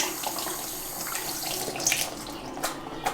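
Running tap water splashes into a sink as vanilla-scented cleanser is rinsed off skin, a steady close flow with a few brighter splashes and drips near the end.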